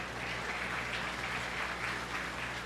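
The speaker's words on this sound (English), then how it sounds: "let's give our 2 crossbred exhibitors out here a nice round of applause" Audience giving a round of applause for two crossbred heifer exhibitors at a county 4-H beef show, soft, distant steady clapping in a large arena with a low hum underneath.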